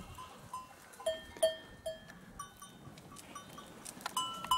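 A herd of tall Honamli goats at a farm in Antalya bleat in short, scattered calls. Some are near and some farther off, with faint bell-like clinks in a quiet outdoor setting.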